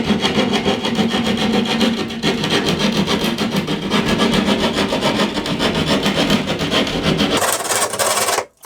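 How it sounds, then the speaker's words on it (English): A hand saw cuts through half-inch sheetrock drywall with a close, loud, rapid back-and-forth rasping that runs steadily and stops abruptly at the end. "You don't want to go in too far with your saw. Just enough to get the sheetrock."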